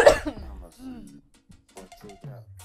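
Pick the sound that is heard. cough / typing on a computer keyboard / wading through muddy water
cough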